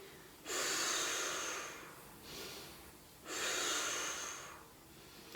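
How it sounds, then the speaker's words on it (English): Two deep, loud breaths, each a sharp inhale followed by a slower exhale, taken close to the microphone while holding an iso dead bug exercise position at a home workout session. "So I'm gonna hold and breathe."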